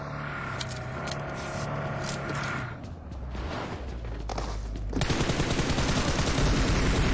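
Rapid gunfire during a video game shootout, a dense continuous burst of shots that grows louder and heavier partway through, with no talk over it.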